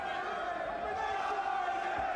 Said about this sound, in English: And listen to this crowd, Jim, as well, getting behind him again.